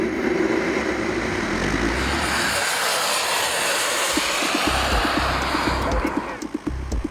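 Unmanned aerial vehicle PTERA on a takeoff flight test: a loud, steady engine roar that stays close and continuous throughout, with engine tone shifting midway and faint talk underneath.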